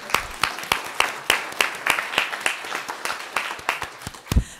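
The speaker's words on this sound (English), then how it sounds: "So let's give her a round of applause." Applause from the audience at a comprehensive plan town hall meeting, a run of distinct, fairly sparse claps from a small crowd that carries on steadily for several seconds.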